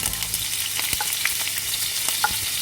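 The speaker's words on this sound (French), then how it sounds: "Donc on va faire revenir environ 1 minute nos saucisses" Sausages fry in about four tablespoons of oil in a skillet, making a dense, continuous crackling sizzle with small pops, loud and close, with no voices over it.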